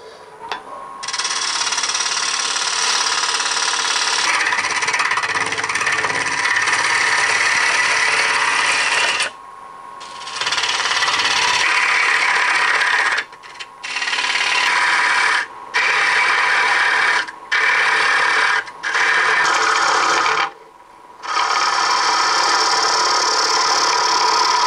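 A wood lathe turning at about 1,000 RPM as a gouge hollows the inside of a cherry bowl blank, a loud steady scraping whine broken by several brief pauses as the tool lifts from the wood.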